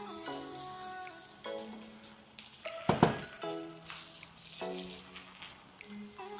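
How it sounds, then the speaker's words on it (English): Scent leaf and curry leaf frying in a pot while being stirred make a faint, patchy sizzle broken by scraping and clunks of the spoon, with one louder clatter in the middle and a voice speaking softly. "So you just want to keep on mixing and frying."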